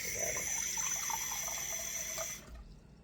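Water pours from a tap for about two seconds, steady and fairly close, as half a cup is measured for spelt bread dough; the flow cuts off abruptly near the end.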